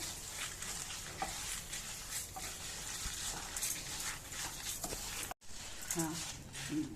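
Chana dal, urad dal, cumin, dried red chillies and a pinch of asafoetida roast in hot oil in a pan, with a soft steady sizzle and scraping stirs, while a voice talks intermittently over it.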